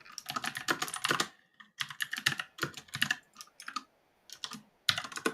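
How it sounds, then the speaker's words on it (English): Rapid keyboard typing in bursts of clicks with short pauses between, fairly close and clear, no voices. "I can hear you typing."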